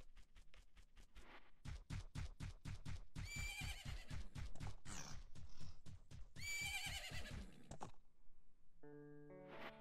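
In The Legend of Zelda: Majora's Mask, rapid, evenly spaced hoofbeats build into a gallop while a horse whinnies loudly twice, followed by a short synthetic chime-like tone.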